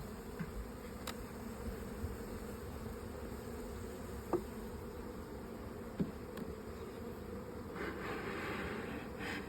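Honey bees swarm around an open hive being worked with a smoker, their steady, dense buzzing close and continuous, with a few faint clicks and knocks from the hive box.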